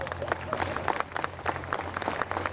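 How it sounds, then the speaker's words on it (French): Audience applause at a Winnie the Pooh stage show at Disneyland Paris, a lively burst of many clapping hands with crowd noise and faint voices mixed in. "On peut applaudir très fort Laura."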